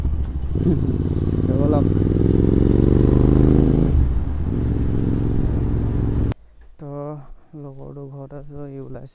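Royal Enfield Interceptor 650 motorcycle fitted with an aftermarket exhaust, its engine rumbling loud and close with a rev rise for about six seconds before cutting off, followed by someone talking.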